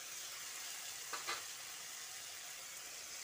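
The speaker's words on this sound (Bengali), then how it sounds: "যতক্ষণ না মশলা থেকে তেলটা না ছেড়ে আসে ততক্ষণ মশলাটা এভাবে কষিয়ে নেব।" Spice paste for a pointed gourd dish frying in oil: a faint, steady sizzle with one brief stirring scrape, heard close but quiet and with no talking.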